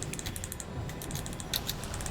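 Keyboard keys click rapidly in a quick burst while playing World of Warcraft, close and fairly quiet, a steady patter of taps with a few sharper presses.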